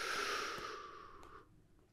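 A single long, airy exhale during a yoga standing exercise, close and clear, steady at first and then fading out after about a second and a half.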